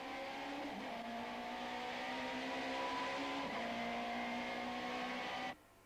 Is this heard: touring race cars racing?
yes